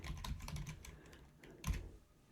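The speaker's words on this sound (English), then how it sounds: "let's try typing in Bailey" Clicks of keys on a computer keyboard as a name is typed in, a quick irregular patter of taps with one firmer keystroke near the end, faint and close.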